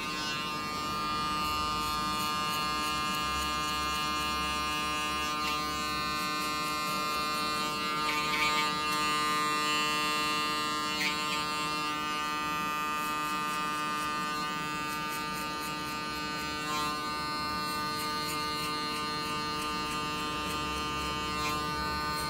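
An electric hair clipper set to zero trims hair during a mid fade haircut, giving a steady, close, unbroken buzz that runs the whole time with only slight shifts in tone as it moves over the head.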